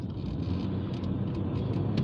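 A truck rumbles past on the road, a steady low engine drone close by that holds through the whole moment, with no voices over it.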